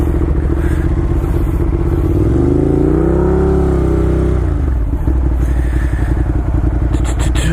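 Ducati Monster 1200 motorcycle being ridden, its engine droning steadily with a rising and falling rev sweep midway, recorded close and loud with some clatter near the end.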